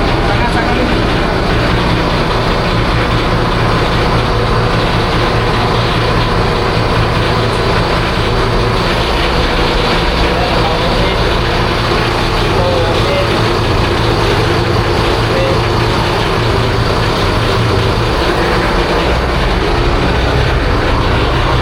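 A large boat engine on a BFAR fisheries boat runs with a loud, steady, deep drone that holds unchanged throughout, close and constant.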